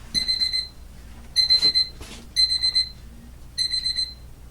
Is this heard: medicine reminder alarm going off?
yes